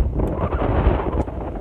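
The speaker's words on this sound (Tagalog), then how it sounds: "Bakit mahangin? Kasi nandito kami sa ano be, sa may parang beach house." Wind buffeting a microphone at a beach house by the sea, a loud continuous low rumble with rough gusting swells for under two seconds and no other sounds.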